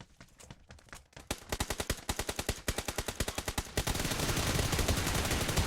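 Rapid automatic gunfire in PUBG: a few scattered shots, then a steady fast burst of evenly spaced, sharp cracks, giving way to a dense, continuous roar of fire at the end.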